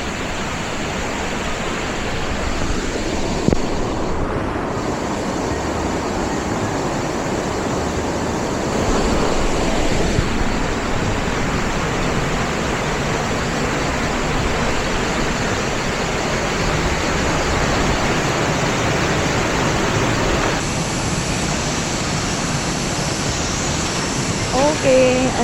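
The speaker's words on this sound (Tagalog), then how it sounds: "Okay, I think we're in the waterfalls" A waterfall in Da Lat, Vietnam, gives a steady, dense roar of falling water up close. It runs unbroken for the whole stretch, with occasional wind buffeting on the microphone.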